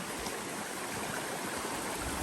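Water from a flowing stream rushes steadily and close by on a hike, a broad continuous wash that holds level throughout with no voices over it.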